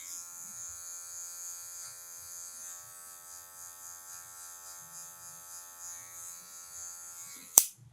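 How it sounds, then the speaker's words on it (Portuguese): The tip of an electric hair clipper buzzes steadily and close while tidying a taper fade on long hair, ending with a sharp click as it switches off. "Agora 1 baixa e com a ponta da maquininha, ó, vou vir removendo as partezinhas que tiver marcada ainda"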